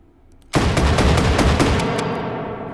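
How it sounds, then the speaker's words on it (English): A double-action revolving shotgun in the VR shooter H3VR fired rapidly in a loud, dense burst of blasts that starts suddenly and rings out with a fading tail. "this will fire as fast as you can pull the trigger"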